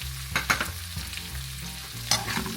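Spring onion roots being stirred in a frying pan while preparing sautéed vermicelli noodles: a few quiet scraping strokes over a low, steady sizzle, close by and soft, with a low background hum.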